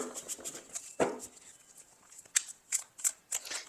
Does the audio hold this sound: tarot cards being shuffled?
yes